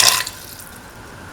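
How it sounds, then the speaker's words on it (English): Water is poured into a chicken meatball mixture, a short splash at the start that quickly fades to quiet. "Now pour in 150 ml of water."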